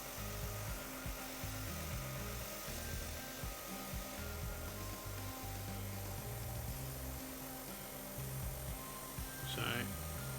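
A hair dryer blows close by with a steady whirring rush, drying paint on a miniature base, while a person talks over it.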